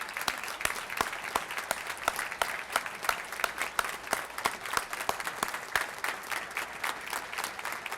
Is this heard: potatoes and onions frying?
no